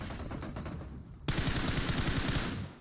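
Rapid automatic gunfire in the mobile battle-royale game PUBG Mobile rattles in steady, evenly spaced bursts, growing louder and crisper midway, then trailing off slightly, with no talking.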